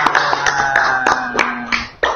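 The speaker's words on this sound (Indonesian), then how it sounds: "Tepuk tangan dulu dong" A few people clapping hands together at the close of a student podcast recording, sharp uneven claps with a ringing tone over a room background, with no talk.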